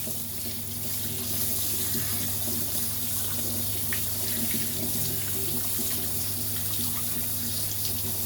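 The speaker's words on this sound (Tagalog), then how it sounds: "hugasan natin yung ating ampalaya kasi hindi natin alam kung saan to nanggaling" An old, bruised bitter gourd (ampalaya) is rinsed under a running kitchen tap. A steady, close stream of water splashes into the sink throughout, with no talking.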